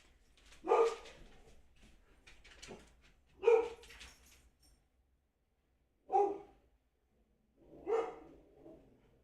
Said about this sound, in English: And my dog's going absolutely bonkers.